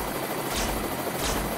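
A helicopter in the video game Planet Explorers keeps up a dense, steady rotor-and-engine drone, loud and close, with a soft periodic swell in the whirring.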